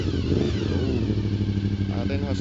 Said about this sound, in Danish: Og Jesper er ved at varme sin motorcykel op.